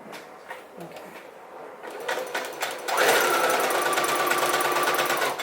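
Fabric rustles and handling noises come first, then a sewing machine starts up nearby and whirs steadily, running a straight stitch along the seam of a reversible bucket hat.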